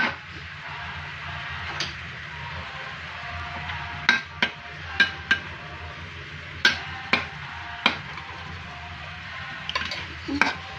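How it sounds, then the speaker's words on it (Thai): Tofu and pork stir-frying in a pan with a soft steady sizzle, punctuated by a series of sharp metallic clicks and scrapes from a utensil against the pan. "เดี๋ยว ผัด ให้ แห้งกว่านี้นิดนึงก่อน"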